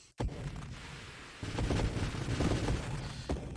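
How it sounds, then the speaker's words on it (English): A ship in Nova Drift fires projectiles in rapid succession, a dense crackling barrage of shots that starts abruptly and keeps up loud and steady, with a heavier burst near the end. "I'm basically shooting in a circle now"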